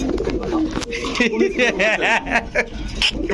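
Pigeons at a market coo in soft, repeated warbling calls close by, mixed with people talking over a busy background.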